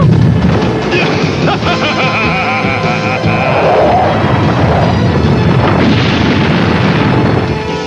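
Loud, sustained booming blast of a sand torpedo explosion in a 1990s James Bond Jr. action cartoon, a dense roaring crash filling the whole stretch with rumbling debris, with no speech over it.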